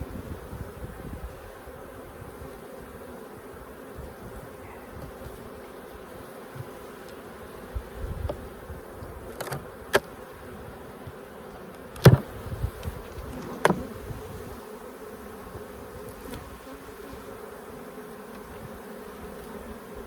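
Honey bees buzz around an open hive during a bee yard inspection, a continuous soft drone close by with scattered knocks and clicks of handling equipment, no talk.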